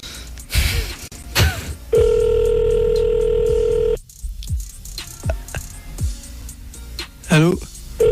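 Outgoing telephone call ringing tone: one steady, loud electronic tone held for about two seconds, with talk before and after it.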